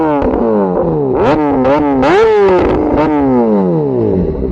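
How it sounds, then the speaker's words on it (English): A Kawasaki ZX6R with an aftermarket exhaust runs close by, its loud throaty engine note rising and falling in several quick rev blips over a steady rumbling base, heard alone without talk. "So this is how the bike sounds. Steady burble."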